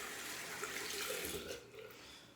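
A brush is rinsed under a running tap, giving a steady broadband splash of water that holds for about a second and a half before easing off into a quieter trickle.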